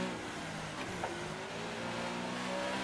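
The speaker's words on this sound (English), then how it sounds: "Can hear your engine!" A Formula 1 race car engine in the F1 2018 video game, at the Mexico circuit, holds a steady high-pitched drone with slight pitch shifts as it revs. It is loud and continuous, with no talking.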